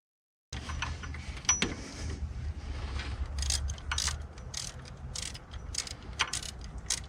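Repeated ratchet clicks from tightening water pump bolts on a 1998 Jeep Cherokee XJ, sharp bursts of clicking in quick runs over a low steady rumble, close and moderately loud.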